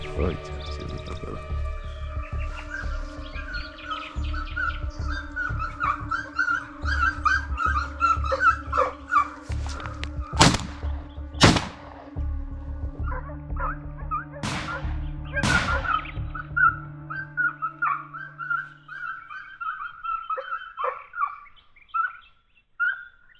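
A hunting dog whimpers and lets out a few sharp barks during a jackal hunt in Kobuleti, Georgia, while birds chirp and people talk nearby.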